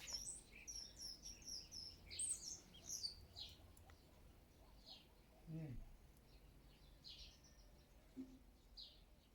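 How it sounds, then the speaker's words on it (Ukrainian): Morning birdsong outdoors, small birds chirping and trilling at a distance, faint and intermittent against quiet background hum, with a brief low sound midway. "Так пташки співають, так?"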